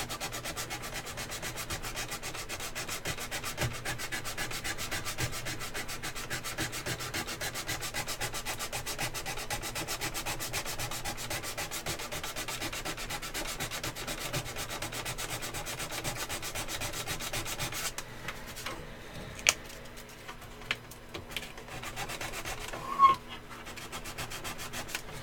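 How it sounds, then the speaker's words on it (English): Sandpaper rubs back and forth on a glass-to-plastic joint in quick, steady scratchy strokes, soft and close for about eighteen seconds, then stops, leaving a few light knocks and taps. "so we are going to use sandpaper there"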